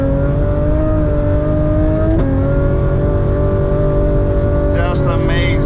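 A Porsche GT3 engine holds a steady, loud drone while driving on an ice track in Lapland. A gear change shifts the pitch briefly, and the engine roars on close and continuous before a rising rev near the end.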